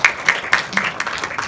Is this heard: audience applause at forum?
yes